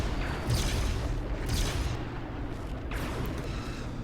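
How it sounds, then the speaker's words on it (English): Borg ships fire weapons in the Star Trek Legacy game: a dense, rumbling wash of blasts with several heavy booming bursts rising over continuous roaring battle noise, loud and without talk. "Oh, indeed they did try shooting me again."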